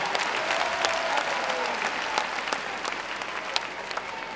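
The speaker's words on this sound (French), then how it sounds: "Applaudissez." Steady crowd applause from an audience at a comedy show, dense and continuous clapping with sharp individual claps standing out throughout.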